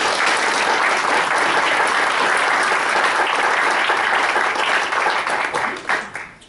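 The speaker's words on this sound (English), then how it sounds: "I think that warrants a round of applause" Sustained applause from a seated audience at a college board of trustees meeting, dense steady clapping that carries for several seconds before tapering off at the end.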